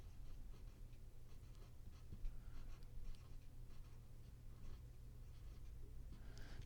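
A pen or pencil writes on paper during a marine ecosystems lesson, giving a faint, steady scratching of short strokes over a low room hum, with no voices.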